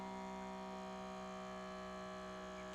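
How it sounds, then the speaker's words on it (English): A steady electric hum from a small vacuum pump on a coffee canister, constant and unbroken throughout. "that's now creating the vacuum."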